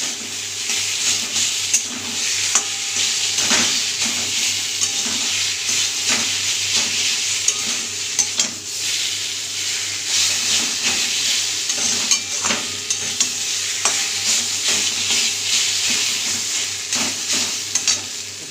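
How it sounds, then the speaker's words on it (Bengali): A hilsa fish head fries with chopped taro leaves in a hot pan, giving a continuous oily sizzle broken by regular scraping strokes of a spatula as the mixture is stirred, close and steady with no talking. "এর মধ্যে আমি ইলিশ মাছের মাথাটা দিয়ে দেবো, দুইটার সঙ্গে ভালো করে ভেজে নেবো।"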